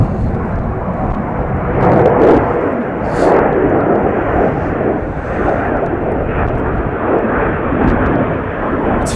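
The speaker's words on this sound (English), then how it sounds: "With Avianca taking off in the background." An Avianca airliner, flight 263 bound for Bogota, takes off at Chicago O'Hare with a loud, continuous jet-engine roar that swells and rolls steadily throughout, with no voices.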